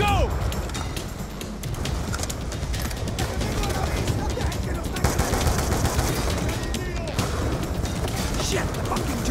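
Rapid automated turret fire in Call of Duty Black Ops 2, a continuous loud stream of shots that runs without pause, mixed with other battle noise and shouted voices.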